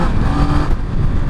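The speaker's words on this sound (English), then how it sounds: "So now let's get up to some speed, just do a nice acceleration, getting up and going to about 50." A 2020 Yamaha MT-09 motorcycle accelerates on a test ride up toward about 50, its engine note loud and close and rising steadily, with wind rush and no talking.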